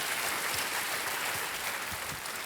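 On a televised quiz show, the studio audience applauds in a continuous, even wash of clapping that runs the full length, moderately loud, with no talking over it.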